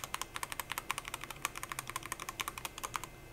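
Brisk typing on a Zouya GMK87 mechanical keyboard fitted with Gateron Black switches, a steady run of close, crisp keystrokes with even rhythm and no talking.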